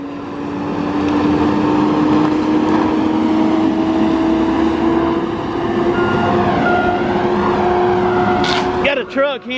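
Tigercat LX830D forestry machine working and swinging, a loud steady engine drone with a sustained tonal whine throughout, ending in a brief rattle as the sound drops off.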